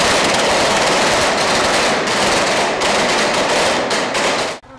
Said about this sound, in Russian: выстрелы и взрывы – всего лишь работа пиротехников